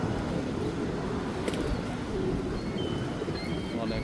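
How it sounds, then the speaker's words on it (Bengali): Pigeons coo nearby in a Danforth, Canada street setting, soft low throaty calls repeating under a constant murmur of ambient noise and faint chirps. "অনেক কবুতর আমার চারপাশে"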